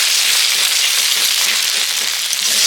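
An egg frying together with vegetables in a pan sizzles loudly and steadily throughout, a dense continuous crackle with no other sounds.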